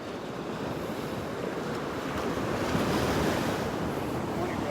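Ocean waves wash steadily onto a Gulf beach at Delnor-Wiggins on a very windy morning, a continuous close roar of surf mixed with gusting wind buffeting the microphone.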